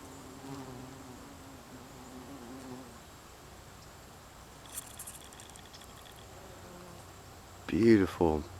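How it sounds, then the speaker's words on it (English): A large carpenter bee buzzes around wild Louisiana asters outdoors, its low droning hum clear for the first few seconds before fading, then a brief voice near the end. "Oh, there's a nice big carpenter bee."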